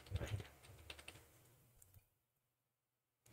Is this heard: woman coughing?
no